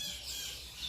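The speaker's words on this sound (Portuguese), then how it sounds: "aqui onde estou posso ouvir os pássaros cantando" Birds squawk and sing outdoors as a faint, steady high chatter spread across the background, with no voices.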